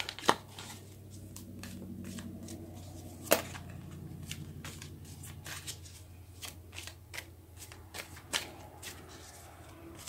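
Tarot cards are shuffled by hand in a quiet room, giving soft riffling and sliding with several sharper flicks and snaps spread irregularly through the stretch.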